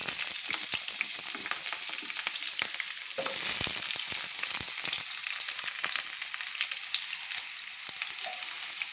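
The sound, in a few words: potatoes frying in a wok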